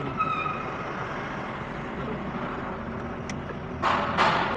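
Trucks and cars idle and creep in a traffic jam near an airport exit in Pune, giving a continuous low rumble with a few short hisses of air brakes near the end.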